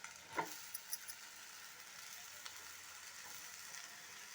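Washed red rice poha being stirred and mixed in a hot pan, a soft continuous sizzle with a few light scraping clicks near the start, close and quiet.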